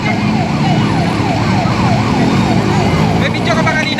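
A loud, close fire truck siren wails in a steady rising-and-falling cycle at the scene of a burning Suzuki Gixxer motorcycle, with traffic noise and voices beneath it.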